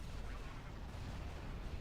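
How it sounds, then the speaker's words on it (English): Proton bomb explosions in a space combat video game merge into a continuous, quiet, dense rumble with no clear separate blasts. "See those massive explosions?"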